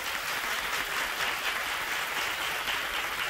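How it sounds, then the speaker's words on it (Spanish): Studio audience on a Spanish TV game show applauds continuously, a soft, even wash of clapping heard from a distance and fairly faint throughout. "un aplauso para él"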